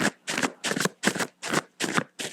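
A deck of cards being shuffled, about seven quick riffled bursts in an even rhythm, close and crisp with short gaps between them.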